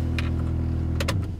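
A 1992 Honda Prelude idling with a steady low hum, then a few clicks and rattles as the key turns and the engine dies away near the end, close by and alone.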